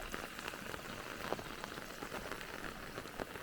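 Light rain patters steadily and softly on a farm, a dense even hiss of small drops with no voices over it.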